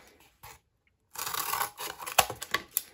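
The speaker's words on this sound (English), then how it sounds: "I'll grab my beautiful golden scissors, pick this thing up, and chomp away." Golden scissors chomping through leftover cardboard, a few faint snips at first, then a dense burst of crisp, crunchy cuts and sharp clicks, close and fairly loud, with no talking.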